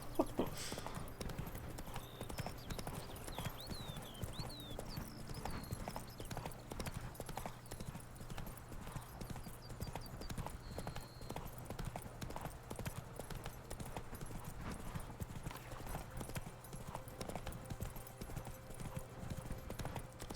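A horse's hooves clip-clop steadily in The Witcher 3: Wild Hunt, Blood and Wine, an even walking rhythm over a low ambient game hum, with faint chirps and a brief snort.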